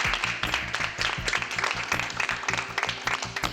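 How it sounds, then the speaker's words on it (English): A studio group on a health challenge competition show claps, giving a busy patter of hand claps over a low, pulsing music bed, moderately loud and steady throughout. "so give yourself a round of applause."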